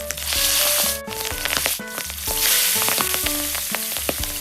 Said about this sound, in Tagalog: start na tayo magprito